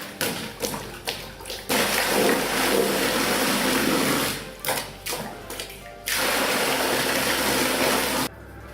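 A homemade manual pump made from 4-inch pipe plunges water in a barrel outdoors, giving repeated thuds, sloshing and gushing bursts in an uneven rhythm.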